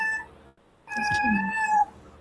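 A house cat meows twice, a short call then a longer drawn-out one, close and clear against a quiet room with a faint hum.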